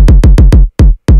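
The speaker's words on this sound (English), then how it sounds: "Not thumpy, bouncy." A bouncy electronic kick drum plays in a syncopated pattern, four even hits followed by two spaced ones, each a loud punchy thump with a quick falling tail and clean gaps between.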